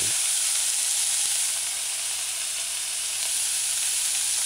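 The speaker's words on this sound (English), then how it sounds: "add your chopped tomatoes. Stir it in, allow it to saute." Chopped tomatoes sauté in a pan for a saltfish and eggplant stew, making a loud, continuous hiss and sizzle up close that dips slightly midway before swelling again. No one speaks.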